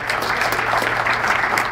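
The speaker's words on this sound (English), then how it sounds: "Everybody give Doc a round of applause for having me here" Crowd applause at a listening party, a dense, even burst of many hands clapping close by, continuous throughout with no talking.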